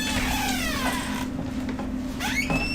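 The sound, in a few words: cat growling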